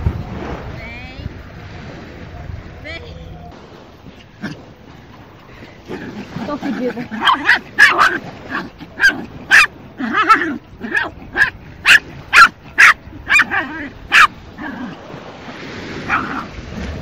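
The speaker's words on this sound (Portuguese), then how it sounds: "olha a felicidade de uma cadela, quer dizer, de um cachorro" A happy dog barks at a hidden beach in Mangaratiba: a run of about ten sharp, evenly spaced barks in the middle stretch, with people chatting, a barbecue gathering and surf-like background noise around them.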